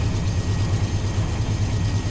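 A diesel locomotive in a train simulator runs in notch 8, chugging at about 19 miles an hour up a slight grade, giving a loud, steady low engine throb with a regular pulse and no talking.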